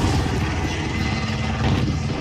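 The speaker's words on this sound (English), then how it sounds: "attack helicopter." Attack helicopter in a first-person shooter free-for-all match, a steady dense rotor and engine roar that stays loud and constant throughout with no gaps or talk.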